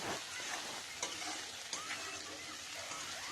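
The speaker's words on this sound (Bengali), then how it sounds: "এর মধ্যে দিয়ে দিলাম পেঁয়াজটা দেখো এটাকে ভালো করে কষিয়ে নেব যতক্ষণ না মশলাটা দিয়ে তেল ছাড়ে" Onions and spice paste fry in a pan for a red chicken curry, sizzling close up while a spoon stirs and scrapes through them in short repeated strokes.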